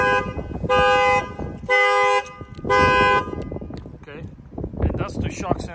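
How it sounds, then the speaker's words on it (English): A Corvette factory car alarm blares in three long, loud bursts, followed by rustling and handling noises nearby. "your alarm will fire off"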